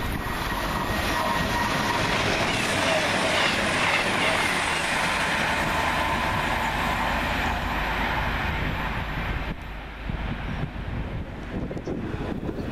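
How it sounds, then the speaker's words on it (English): Class 221 Super Voyager unit 221 115 in Bombardier wrap runs through Rugeley Trent Valley station on a Holyhead to London Euston service, a loud sustained roar with heavy wind buffeting on the microphone that eases off near the end. "here comes 221 115 in the Bombardier Wrap, working 1A20 from Holyhead to London Euston"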